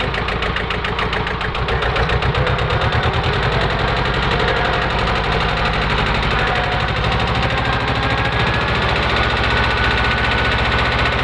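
An old 16-horsepower single-axle walking tractor mows grass in a small palm plantation, its engine chugging loud and close with a steady, rapid knocking throb throughout.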